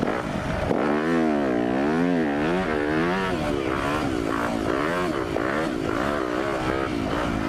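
A KTM 350 motorcycle rides in circles, its engine rising and falling in rhythmic revving sweeps over a steady wind-buffeted roar, heard loud and close from onboard.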